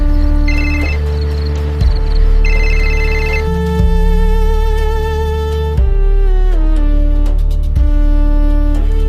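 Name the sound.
phone ringing while placing a call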